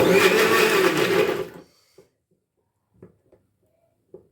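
A kitchen mixer grinder whirs loudly while grinding onion for a puffed rice snack, then cuts off after about a second and a half, leaving near silence broken by a few faint taps and clicks.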